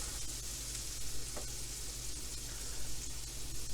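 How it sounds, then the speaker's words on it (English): Green onion sautés in butter in a pan for a salmon omelette, giving a steady, dense sizzle with faint stirring, close and even throughout. "I'll do a quick saute of the green onion"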